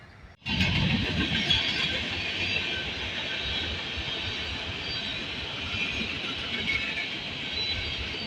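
A freight train hauled by ACE and Tier 4 GEVO locomotives rolls past slowly, starting with a sudden onset and then a sustained loud rumble with wheel noise and faint squeal.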